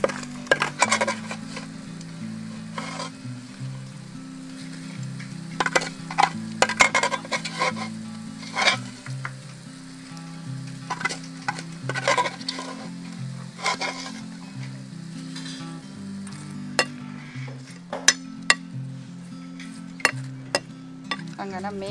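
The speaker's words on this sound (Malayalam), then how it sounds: "അമ്മച്ചിയുടെ മീൻ വറുത്ത് നമ്മൾ കോരാൻ പോവുകയാണ്." Fish fries in a pan with a soft continuous sizzle, while utensils clink and scrape in sharp bursts, all over a low, steady humming tone.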